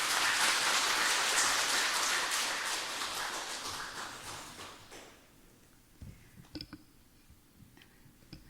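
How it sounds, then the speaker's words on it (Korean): Dense applause from a church audience welcoming a pastor, moderately loud, then tapering off after about five seconds, leaving a few scattered claps and small knocks. "박수로 맞이하시길 바랍니다."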